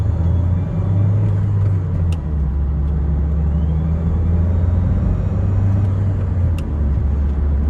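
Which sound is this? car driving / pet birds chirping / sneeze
car driving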